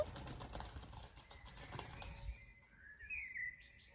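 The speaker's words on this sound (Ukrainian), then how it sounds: "Голуб." A burst of pigeon wings flapping fast and close, fading after two seconds, then a few faint chirps in a quiet outdoor garden setting.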